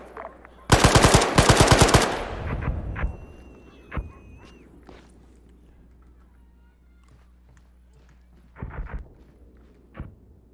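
Close, loud burst of machine gun fire in a military combat video game, a rapid string of shots over about a second, followed by scattered single shots and distant pops while a voice calls out briefly.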